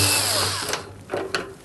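A power screwdriver backs a screw out of a Hotpoint tumble dryer door, a fading motor whir followed by a few short bursts of the tool, close and without speech.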